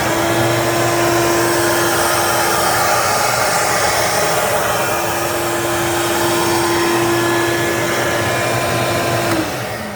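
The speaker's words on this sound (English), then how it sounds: "this is going to be the dust collector" Shop dust collector built from scrap wood and metal running and pulling air: a loud, constant motor whine with a steady tonal hum and rushing airflow, unchanging for ten seconds before cutting off at the end.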